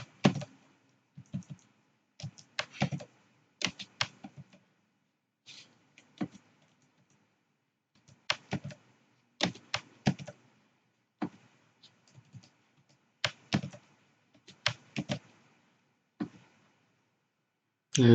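Clicky computer keyboard typing a formula into an Excel spreadsheet, heard as bursts of close, sharp keystrokes separated by short pauses, with no talking.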